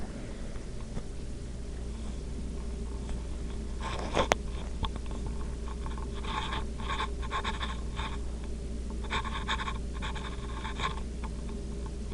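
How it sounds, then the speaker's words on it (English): Pen scratching across paper in short bursts of handwriting, soft and close, with brief pauses between strokes over a steady background hum. "let me naturally write something"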